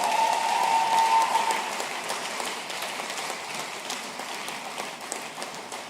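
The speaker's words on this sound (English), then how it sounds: "So let's give them also a round of applause." A round of applause from the audience at the AOD 2023 convocation ceremony, dense steady clapping in a large hall that gradually softens over several seconds.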